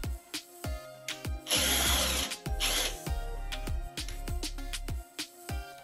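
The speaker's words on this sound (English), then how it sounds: "then I drilled my second hole" An electric drill whines in several bursts, one long loud run in the middle, between short starts and stops, close up.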